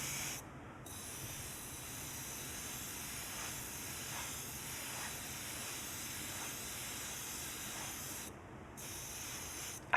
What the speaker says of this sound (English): then put some freeze spray on it.